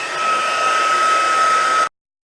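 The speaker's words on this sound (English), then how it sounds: "Always cover this before you use your heat tool" A heat embossing tool blows steadily, a loud, even hot-air whoosh with a faint whine that runs for about two seconds and then cuts off abruptly, with no talking.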